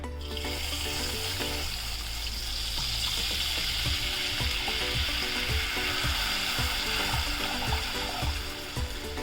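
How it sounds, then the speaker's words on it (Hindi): Water poured into a hot pan where hilsa fish is frying in oil, producing a loud, steady hiss and sizzle with bubbling crackles throughout, close by and with no talking. "आप इसमें पानी डाल दीजिए"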